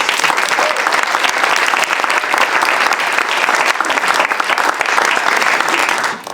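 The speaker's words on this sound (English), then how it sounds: "A round of applause to all the silver winners" An audience at the National Arts Festival awards applauds the silver winners, dense sustained clapping from a large crowd filling the whole stretch before tapering at the end.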